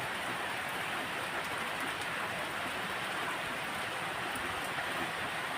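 Rain that has been falling since morning makes a steady, even hiss that fills the whole stretch without breaks, with no voices over it.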